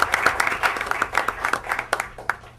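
Scattered applause at a school board of education meeting, a modest group clapping with individual claps distinct and irregular, fairly close and lasting only a couple of seconds.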